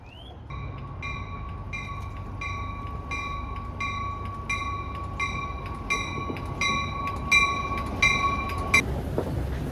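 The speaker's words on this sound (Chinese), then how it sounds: "坐火车进入还是第一次" Commuter train rolling into downtown Chicago on an early-morning rush-hour run, a steady rumble with a sustained high whine and rhythmic clicking pulses throughout, fairly loud and close, with no talk.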